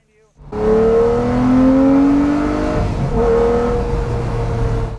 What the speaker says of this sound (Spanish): Ese V12 atmosférico furioso justo detrás de ti.